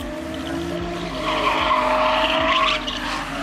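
A car drifting on a race track during drift training, its tires skidding and squealing in a long, loud smear over the engine's droning hum, building to a peak before easing off.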